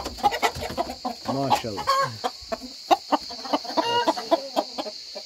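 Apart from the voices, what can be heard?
rooster crowing and clucking in a coop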